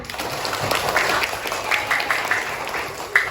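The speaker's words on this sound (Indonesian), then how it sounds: "Ibu minta tepuk tangan." A classroom of students clapping hands together at the teacher's request during an elementary science lesson, a steady wash of many hands at moderate loudness with a few sharper claps standing out near the end.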